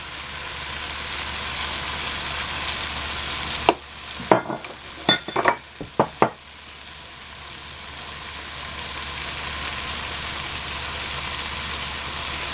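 Ground meat sizzles steadily in a pan with spices layered over it, and a short burst of scraping stirring strokes sounds up close in the middle before the frying settles again.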